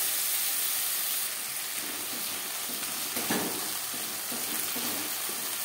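Ginger and green chilli paste sautéing in a pan for a Bengali-style tangra fish curry, a steady close frying hiss with faint stirring scrapes, alone and without talk.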